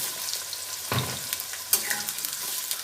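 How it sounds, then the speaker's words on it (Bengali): Potato pieces lightly frying in a pan for a vegetable shukto, giving a close, continuous sizzle with a couple of sharp stirring scrapes and spatters. "আলুগুলো আমি হালকা হালকা করে সব ভেজে নেব"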